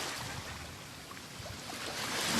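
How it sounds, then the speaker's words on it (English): Ocean waves crash aboard a ship's deck in a steady, rushing wash of broadband noise that swells slightly toward the end, with no voices. "The gentle sound of waves crashing"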